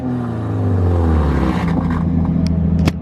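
A Nissan 240SX S13 idling and revving loudly with its exhaust fallen off, a raw, blatty engine drone with rising rev sweeps up close, steady throughout with a sharp pop near the end.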